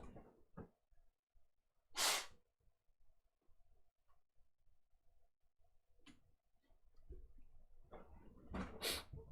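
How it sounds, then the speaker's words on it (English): Close to the microphone, a person blows their nose in two sharp, breathy honks several seconds apart. Soft snuffles and faint ticking fill the quiet room between them. "Sorry guys, I gotta blow my nose."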